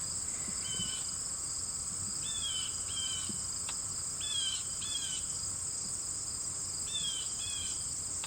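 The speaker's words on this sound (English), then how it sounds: "Just listening to the bird." Short chirping bird calls repeat in small clusters over a constant high insect drone outdoors, faint and somewhat distant, with no talking.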